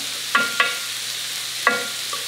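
Beef cooking in melted butter in a pan over medium-high heat gives a steady soft sizzle, broken by a few sharp scraping clacks as the meat is stirred, close and clear with no talking.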